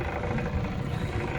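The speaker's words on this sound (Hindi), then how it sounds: "तो ये एसी में देखिए अंदर में कितना साउंड आ रहा है, आप लोग सुन सकते हैं" A 1.5-ton split AC indoor unit runs with excessive noise, giving a steady, close, low droning hum with a rough, rumbling texture and no pauses.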